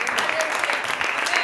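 A church congregation clapping together in praise during a worship service, steady dense applause throughout with voices mixed in.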